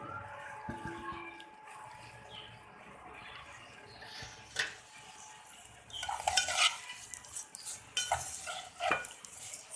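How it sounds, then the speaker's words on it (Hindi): Vermicelli stirred with a spoon as it fries in hot ghee in a pan for sweet dry sivayyan, giving soft scraping and clinking strokes over a low sizzle, with louder spoon-on-pan clatter bursts in the second half. "सिवैयों को चमचे की मदद से चलाएंगे ताकि घी में मिक्स हो जाए सिवैयाँ।"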